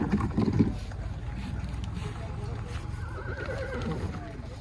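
A horse whinnies loudly and close by at a horse market where mares are being shown for sale, with hoof clops and steady background noise through the rest of the moment.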